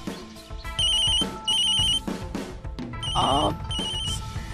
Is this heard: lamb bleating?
no